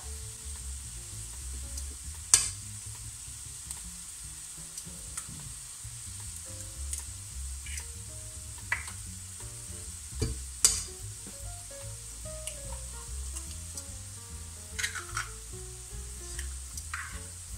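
Two eggs fry in a pan with leeks and olive oil, a steady soft sizzle running throughout with scattered small pops and crackles, quite close and without talk.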